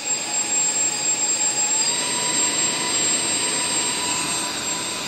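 A homemade hovercraft prototype's engine runs just off idle, a loud steady roar with a high whine, close and continuous with no voices.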